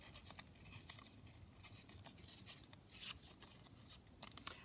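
Paper being torn by hand around a picture on a glossy magazine page, a run of close, quiet ripping and rustling with one sharper rip near the middle, no voice present.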